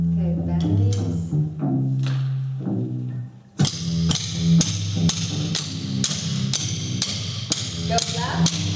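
Drumsticks strike in a fitness drumming workout, first softer scattered hits under a coaching voice and music, then a loud, even series of sharp close beats about twice a second.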